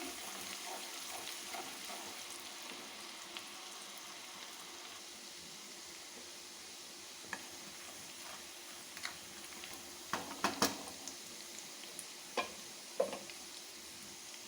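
Chopped ginger and garlic frying in a pan for gravy champ, a faint steady sizzle with occasional soft clicks and stirring taps, no talking.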